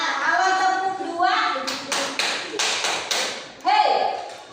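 Rhythmic classroom clapping pattern, a steady series of about seven or eight sharp group claps evenly spaced, preceded and followed by children's voices chanting.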